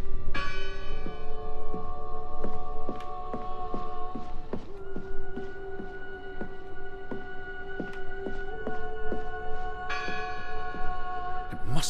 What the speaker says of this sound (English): It must be her ringing the bell.